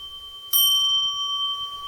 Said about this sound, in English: The Jikijitsu rings one bell and then two bells.